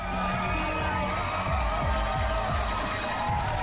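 A recorded sample of audience applause: dense, continuous clapping and crowd noise with a few whoops, steady and loud throughout, no speech over it.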